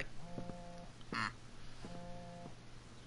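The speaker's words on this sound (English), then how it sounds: "Is that a phone buzzing?" Phone vibrating in the video game Life is Strange: Before the Storm; two separate droning buzzes, each under a second long, with a brief noisy burst between them over a low ambient hum.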